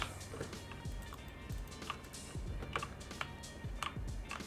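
Keystrokes on a Gamepower Ogre RGB mechanical keyboard with red switches, pressed hard, form an irregular clatter of sharp clicks over a steady background hum, close and moderately quiet.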